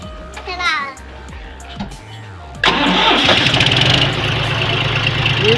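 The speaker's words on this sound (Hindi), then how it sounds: "और स्टार्टिंग सुनिए आप पहले इस ट्रैक्टर की" A 2019 John Deere 5050 D V7 diesel tractor cranks after a few rough bumps and a brief voice, then catches abruptly and settles into a loud, steady, close-up idle.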